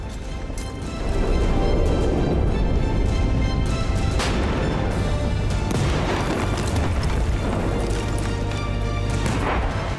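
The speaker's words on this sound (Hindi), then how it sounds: "भयंकर बमबारी और गोलाबारी से दहल रहा लेबनान" Heavy bombing and shelling in Lebanon during the Israel-Hezbollah war, with deep continuous rumbling blasts and booms that roll on densely and loudly for the whole stretch, no voices heard.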